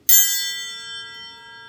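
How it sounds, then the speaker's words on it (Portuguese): A metal triangle from a children's rhythm band is struck once with a beater, a bright bell-like ring that starts sharply and then sustains and slowly decays, heard alone. "Nós temos aqui um triângulo"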